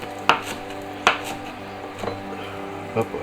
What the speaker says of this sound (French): Donc la roquette, je vais couper quelques morceaux.